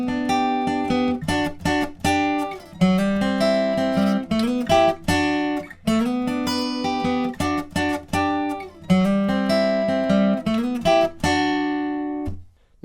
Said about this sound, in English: And altogether, the main riff will sound like this.